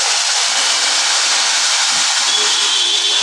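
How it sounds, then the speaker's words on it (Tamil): Mustard seeds and urad dal sizzling in a little hot oil during tempering for a banana stem stir-fry, a loud, steady, hissing crackle filling the whole stretch. "கடுகு உளுத்தம்பருப்பு தாளிச்சிடலாம்."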